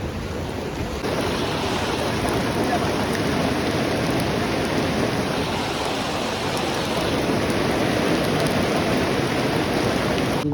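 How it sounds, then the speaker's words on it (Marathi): Sudden heavy rain pouring down over a street of shops, a dense, even roar of falling water that holds steady and loud throughout with no voices standing out. "अचानक भयानक पाऊस लागलेला आहे"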